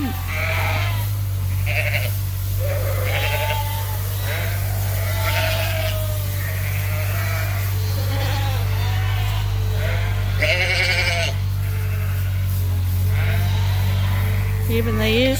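Ewes bleat repeatedly inside a sheep barn, several calls overlapping at close range over a steady low mechanical hum, with a person occasionally speaking in the background.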